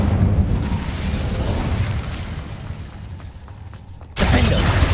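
Fiery spell blasts in the Hogwarts Legacy video game, a sustained roaring rumble of game effects that dips briefly before a sharp loud burst near the end, with no talk over it.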